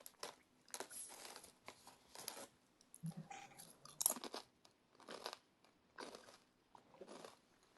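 Crunchy food is chewed close to the microphone for ASMR, with repeated quiet crisp crunches and bites in irregular bursts and brief pauses between them.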